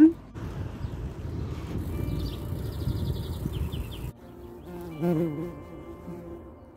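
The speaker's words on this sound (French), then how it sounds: "Une guêpe." A wasp buzzes near the microphone among the Cognac vineyards, a droning insect hum with breezy wind noise, then a short rise in its buzz after a quieter gap.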